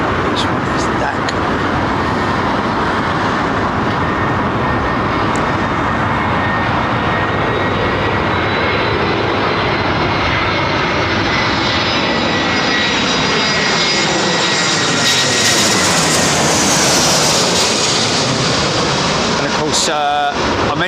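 An inbound flight from Cork roars in to land, its aircraft engine loud and sustained throughout with a rising whine near the end, while a voice talks over it.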